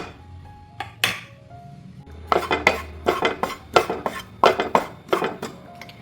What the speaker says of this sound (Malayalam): ഇതിലേക്ക് മുളകും മല്ലിയും മഞ്ഞൾപ്പൊടിയും കൂടി ഒന്ന് വറുത്തെടുക്കാം